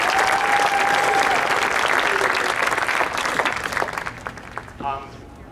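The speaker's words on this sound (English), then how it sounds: "I give them a round of applause." An audience at a drum major camp final show gives the dancers a round of applause: loud, dense clapping that thins out toward the end, with a brief whistle early on and a voice starting up as it fades.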